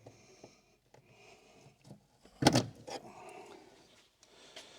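A hood latch on a 2023 Hyundai Ioniq 5 Long Range Premium is pressed down by hand, giving one sharp, loud metallic clunk mid-clip amid quiet handling noises and faint rustle, with no talking.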